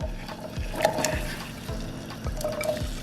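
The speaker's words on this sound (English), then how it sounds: "now the water's starting to boil. I put some salt in the water. And you're going to add the carrots." Water coming to a boil in a cooking pot as carrots are dropped in, a steady bubbling and watery churn with a few sharper splashes and pops, close and moderately loud, with no talking.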